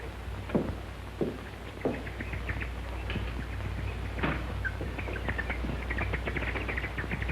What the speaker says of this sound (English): Those birds, what are they so excited about?